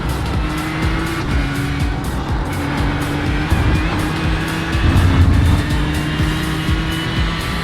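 GT3 race cars at Spa pass under a steady engine drone, with tire squeal and revving swelling louder midway as cars go by, continuous and fairly loud.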